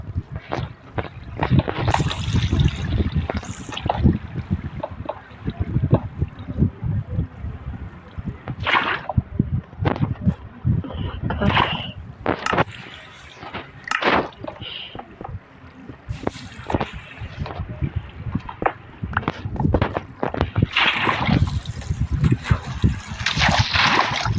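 Flowing water in the Minecraft video game makes steady splashing and trickling, with sharp clicks and bursts breaking through at an even, fairly loud level.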